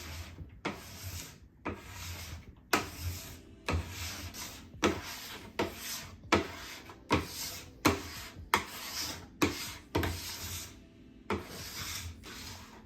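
Wax being scraped off a snowboard base in steady, rhythmic strokes: about a dozen close, rasping pulls, each with a sharp start, separated by short pauses, with no talking.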